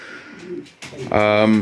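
Pigeons coo close by in a breeding loft, a soft burst followed by a louder, throaty sustained coo at the end, with a voice speaking in the background.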